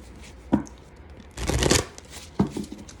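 A deck of oracle cards is shuffled on a quiet table, with short riffling bursts around a longer, denser shuffle in the middle, close and soft.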